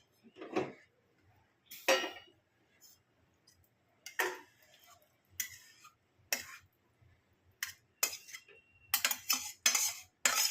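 A spoon scrapes and clinks against a pan while paneer bhurji gravy is served, coming as a series of sharp, separate metallic taps and scrapes with quiet gaps between them, close to the listener.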